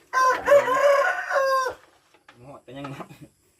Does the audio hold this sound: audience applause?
no